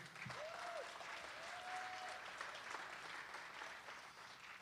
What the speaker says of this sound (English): let's give it another round of applause for Willie